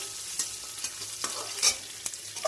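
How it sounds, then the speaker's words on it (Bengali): Fennel and cumin seeds fry in a pan as the base for grass pea greens, with a close, continuous sizzle and regular spatula taps and scrapes against the metal. "ভেজে নিলাম।"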